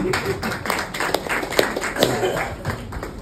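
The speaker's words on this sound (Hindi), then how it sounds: "आपके लिए विशेष तालियां होनी चाहिए।" An audience at a talk claps in uneven, sharp bursts, individual hand strikes standing out against a murmuring background with some voices mixed in.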